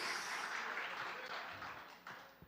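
A church congregation applauds, a broad dense wash of clapping that swells and then thins out toward the end, with a voice faintly present underneath.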